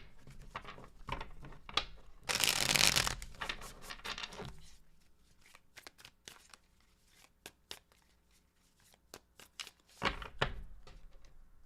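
Tarot cards are shuffled in a series of crisp riffles and taps, with a loud burst of rapid card flutter and several sharp clicks spaced out in quiet between.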